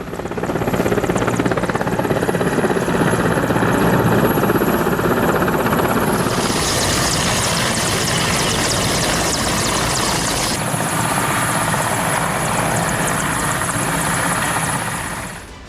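Military helicopters fly during an Iranian naval exercise near the Strait of Hormuz, their rotors giving a loud, continuous thudding roar that swells and shifts in tone as the aircraft pass, with no voices.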